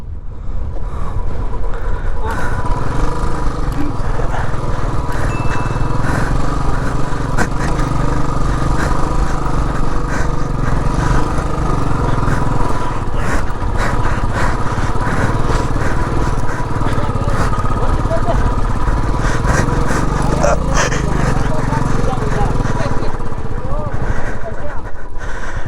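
A motorcycle engine drones and revs continuously up close on an off-road monsoon ride in the Sakleshpur hills, loud and steady throughout, with voices talking over it.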